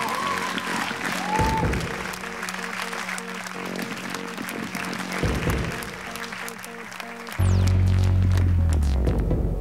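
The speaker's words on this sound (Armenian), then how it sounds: "Ավելի բարձր ծափարենք Էրիկին, շնորհավորենք նրան։" A TV talent show audience, on X-Factor Armenia, applauds a contestant with sustained, loud clapping and crowd noise over a low throbbing hum, which swells near the end.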